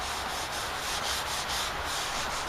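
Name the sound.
rubbing Old English polish onto wood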